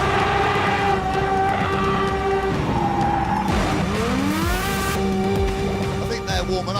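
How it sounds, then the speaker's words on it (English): An Aston Martin Vulcan screams up and down the revs while warming its tyres, loud and close, the engine note rising and falling in sweeping pitch shifts with rough tyre scrubbing and a constant roaring exhaust. "Probably ought to warm the tyres up."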